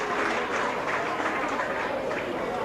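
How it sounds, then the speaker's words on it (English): Warrington supporters in a rugby league crowd at a 1986 Widnes v Warrington match applaud player Les Boyd, a dense, steady wash of clapping throughout, under a commentator's voice. "Les Boyd getting a good round of applause from the Warrington supporters in the crowd"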